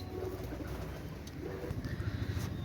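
Pakistani pigeons coo softly in a loft, a low repeating throaty burble that runs continuously and fairly close, with no talk over it.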